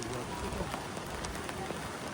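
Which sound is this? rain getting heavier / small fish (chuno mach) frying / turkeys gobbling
rain getting heavier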